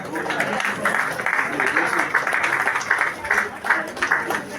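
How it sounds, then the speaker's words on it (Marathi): Loud, steady applause from an audience at an honouring ceremony during a Shivotsav celebration, dense rhythmic clapping filling the whole stretch without a break. "त्यासाठी जोरदार टाळ्या"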